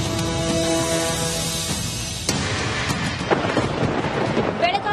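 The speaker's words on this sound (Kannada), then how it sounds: "ಪಶ್ಚಿಮ ಘಟ್ಟ ಕಣಕುಂಬಿ ಭಾಗದಲ್ಲಿ ಮಳೆ ಅಬ್ಬರ ಹೆಚ್ಚಾಗಿದೆ." In Karnataka's Western Ghats around Kanakumbi, a heavy monsoon downpour roars as a dense, loud wash of rain, with thunder rumbling through it and a sharp crack partway in.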